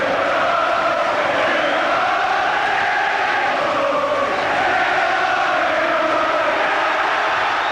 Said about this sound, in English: The crowd trying to urge Collins through this last half a minute.